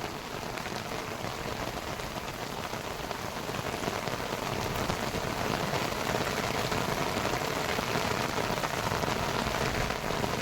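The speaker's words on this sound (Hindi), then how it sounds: "ये देखिए कितनी ज़ोरदार बारिश हो रही है।" Heavy morning rain pours down in a dense, steady hiss of drops striking surfaces, loud and unbroken throughout.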